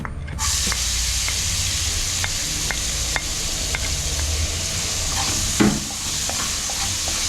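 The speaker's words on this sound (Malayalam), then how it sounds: "നമ്മൾ ആ മീൻ വറുത്ത എണ്ണയ്ക്ക് അകത്തോട്ട് നമ്മൾ അതിൻ്റെ സവാള വാട്ടിയെടുക്കും" Onions sautéing in oil left over from frying fish, a steady close sizzle with intermittent scraping stirs of a spatula through the pan.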